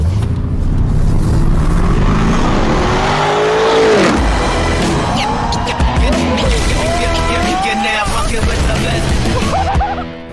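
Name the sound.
Lamborghini Urus car driving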